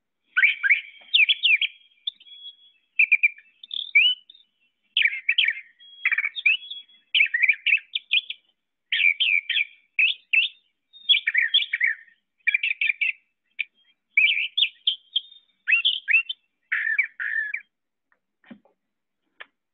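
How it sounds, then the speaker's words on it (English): Brown thrasher song played back: a long run of loud, clear bird phrases in quick bursts, each short phrase separated by brief pauses, sung steadily with no voices. "that's always how I know that it's a brown thrasher"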